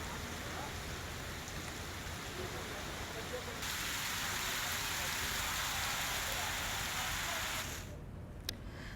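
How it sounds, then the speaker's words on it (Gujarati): Heavy monsoon rain pours down in Gujarat in a dense, steady hiss that holds without pause, then drops off abruptly near the end. "ધોધમાર વરસાદ વરસતા વાતાવરણમાં ઠંડક પ્રસરી"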